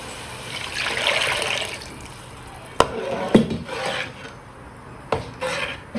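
A liquid mixture of tamarind and home-ground chili powder is poured into a pot for Madurai-style fish kuzhambu, a wet swishing pour with a few sharp clanks of a vessel against the pot.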